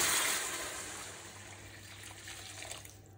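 Hot water pours steadily into a pan, a rushing splash that gradually softens and trickles off near the end.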